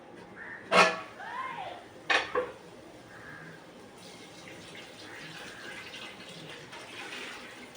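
A pot clinks a few times as it is handled in a home kitchen, then water is poured in over rice as a steady, soft rushing that continues to the end.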